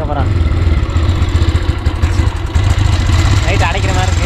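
A motorcycle running on gas rather than petrol idles and putters steadily, with a continuous low mechanical rumble and faint clatter. A voice talks over it.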